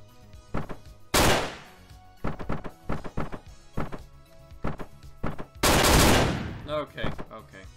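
Gunfire in the video game Hotline Miami: sharp, loud shots in uneven bursts, some single and some in quick clusters, with two heavier blasts standing out, alongside brief game sounds.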